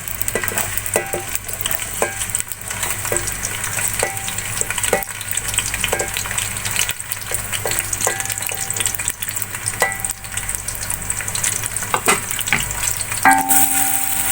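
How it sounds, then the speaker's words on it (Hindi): Sliced onions frying and browning in hot cooking oil, a loud continuous sizzle with repeated scraping stirs of a utensil against the pan, close up and with no talk. "अब प्याज को ब्राउन कर लेंगे।"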